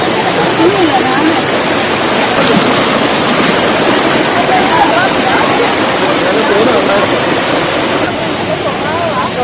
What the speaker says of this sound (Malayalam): അടിപൊളി വെള്ളച്ചാട്ടം